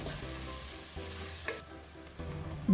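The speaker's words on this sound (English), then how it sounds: "Add the chopped onions and saute for 2 to 3 minutes until soft." Chopped onions sauté in a pan with cumin and fennel seeds and a pinch of asafoetida for a spicy okra curry, giving a soft, quiet sizzle broken by a few stirring scrapes.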